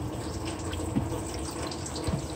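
Water running steadily into the coolant expansion reservoir of a Vectra Millenium cooling system, a continuous close pouring and gurgling wash with a couple of brief splashy bursts.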